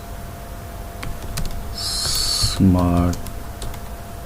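Quick typing on a keyboard while entering a wallet name, light key clicks heard close, with a short electronic tone and a voice partly over it.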